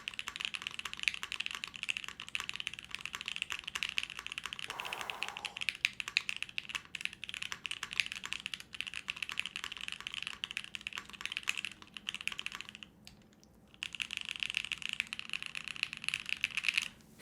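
Rapid, steady clacking of keys on a low-profile mechanical keyboard, close and fairly quiet, continuing with only a brief pause near the end and no talking.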